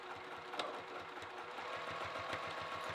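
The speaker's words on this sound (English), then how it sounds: "I'm just sewing a straight line" A sewing machine stitching a straight line, its needle running in a fast, even rhythmic chatter close by at moderate volume, alone without talk.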